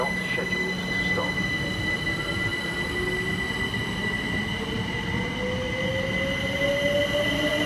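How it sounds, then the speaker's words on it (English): A train rolls steadily through Ealing Broadway station without stopping, with a continuous rumble and a high, sustained squeal of wheels on rails that rises gradually in pitch. "The next train is not scheduled to stop."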